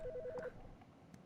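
Telephone in the horror game Autopsy Simulator ringing with short, evenly spaced electronic tones over about half a second, fairly faint, followed by quiet room tone with no talk.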